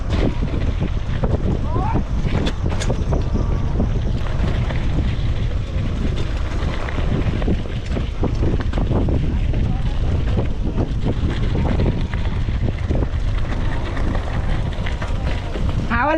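Strong, steady wind buffets the microphone throughout a local motorbike ride near Ghorahi, a dense low roar with occasional gusts and faint voices underneath.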